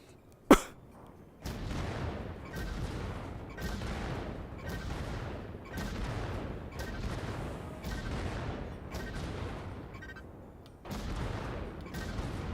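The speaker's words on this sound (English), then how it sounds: "Please note that the small cannon can shoot faster, but does less damage." Small mech cannon fire in the video game Vox Machinae, a series of about eight heavy booming shots at a steady rhythm, each with a rolling tail, starting after one sharp early crack.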